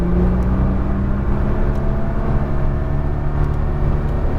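A Nissan GT-R sports car accelerates uphill on a track, its engine a loud, steady, close drone with a sustained low rumble throughout and no speech over it.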